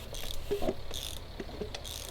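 A 1983 Evinrude 90 HP outboard engine is cranked over with the throttle held open and does not start. It gives a faint, rhythmic mechanical ratcheting whir that pulses steadily and repeats for a couple of seconds.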